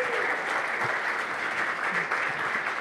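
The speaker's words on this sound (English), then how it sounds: "please give a round of applause for our" An audience at an investor conference applauds the event sponsors, a steady, even roar of many hands clapping that neither builds nor fades.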